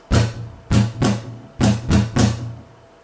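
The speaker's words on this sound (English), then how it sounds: "just steal the rhythm and strum your chords to it." An acoustic guitar strums a simple, common pop and rock rhythm pattern, with six bright chord strokes grouped in uneven pairs, close and unaccompanied.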